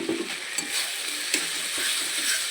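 Chopped tomato hits hot frying spice masala in a pan, giving a soft, steady sizzle with a few light clinks and scrapes of stirring.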